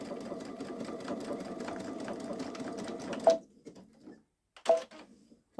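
A Babylock Solaris sewing machine stitching a darning pattern with the buttonhole foot gives a fast, steady mechanical whir that stops suddenly, followed by a couple of short bursts of stitching, close and clear with no talking.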